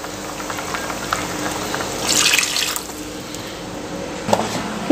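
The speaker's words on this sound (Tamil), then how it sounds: "இது கூட இப்போ சாம்பார் தேவையான தண்ணியும் சேர்த்துக்கலாம்." Water is poured into a pot of sambar with tomato and green chilli paste, giving a brief gushing splash midway over a quiet simmering background, followed by a small clink.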